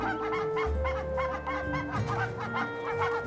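Goslings and adult geese calling together, a busy run of honks and clucking cries repeating rapidly and fairly close, with no human voices.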